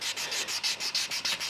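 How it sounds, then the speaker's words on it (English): Steady back-and-forth sanding strokes on a hydrofoil surface, a rhythmic raspy rubbing repeated about six times a second, close up and fairly quiet. "sanding is refining the surface to remove any minor scratches and things like that"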